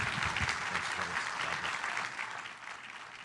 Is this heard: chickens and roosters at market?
no